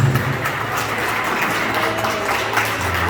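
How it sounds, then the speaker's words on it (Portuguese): Congregation applauding during a family church service, a steady, moderately loud wash of many hands clapping with faint room echo and no speech over it. "Aplaude Jesus."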